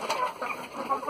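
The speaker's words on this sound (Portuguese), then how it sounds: "Aí aqui tá a galinhazinha braba." A free-range hen clucks in short, repeated bursts close by, with a steady background hum throughout and no voices.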